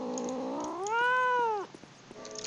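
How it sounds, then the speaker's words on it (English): A cat lets out one long, rising and falling meow, close and clear, followed by soft rustling and light movement noises. "I have a cat who is doing things"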